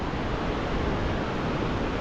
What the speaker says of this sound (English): listen to sound of the river, Namche river